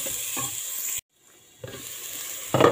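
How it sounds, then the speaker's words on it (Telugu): Onions fry and are stirred in a pan over a slow flame for a spicy pasta, making a close, bright sizzle broken by a brief silent gap, then scraping stirs and a louder hiss at the end. "నెక్స్ట్ మనం ఉల్లిగడ్డలు వేసుకుందామండి। ఈ విధంగా వేసుకొని బాగా కలుపుకోవాలి।"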